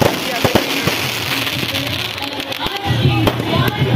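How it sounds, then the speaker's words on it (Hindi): Fireworks burst repeatedly at a Dussehra celebration in Kusmunda, sharp cracks and bangs popping over a dense, noisy crowd roar, with people talking throughout. "इधर अभी भी आतिशबाजी चल ही रहा है"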